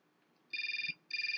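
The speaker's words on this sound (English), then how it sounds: "Oh, another phone call." An in-game telephone in Syberia rings in two bright, trilling bursts with a short gap between them, loud and close against a quiet background.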